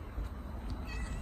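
A cat meows on a town street, short mid-pitched cries over steady background noise.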